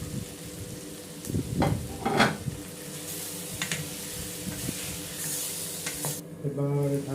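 Pieces of cut chicken hit a hot pan of sizzling oil during home breakfast cooking, followed by a few scraping stirs over a steady frying hiss and a brief clink near the end.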